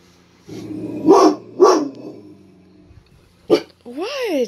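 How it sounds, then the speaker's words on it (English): A pet dog named Chevy lets out two sharp barks close by, followed by a quick yip and a higher whining, warbling call, heard alone without talk over it. "What are you barking at?"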